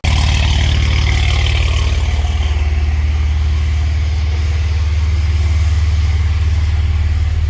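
A modified Audi B9 S4 with TTE 850 turbos and RS+ injectors runs close by as it warms up, its loud, steady, deep engine drone holding throughout with slight swells in revs.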